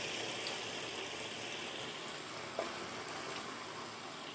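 Battered banana fritters (pazhampori) fry in hot oil with a soft, steady sizzle and faint bubbling, broken once by a small pop.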